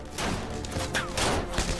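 Castle defenders fire back at attacking Waffen-SS troops in a wartime battle, a short burst of several sharp shots and thuds at moderate loudness.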